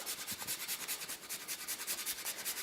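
A microplane grates a frozen ingredient into a bowl, making a steady run of quick, raspy scraping strokes in an even back-and-forth rhythm, close and fairly quiet, with no talking.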